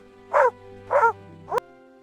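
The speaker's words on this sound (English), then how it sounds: "The dog barks loudly near the gate." A dog barks near a farm gate, giving three short, fairly loud barks spaced about half a second apart, the last one cut short, over a steady low background hum.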